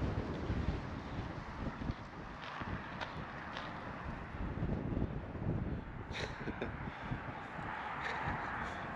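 Steady wind buffeting and rumbling across the microphone, with low gusty roar and a few faint scrapes, no one speaking.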